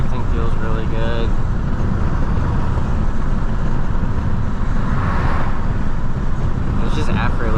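A BMW 328i E46 driving on smooth winter roads, its engine and road noise forming a steady, loud, continuous drone throughout with a faint brief brighter sound near the end.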